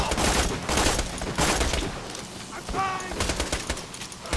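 Rapid bursts of automatic gunfire from the video game Borderlands 2, dense and loud throughout with a brief electronic chirping tone in the middle and faint voices mixed in.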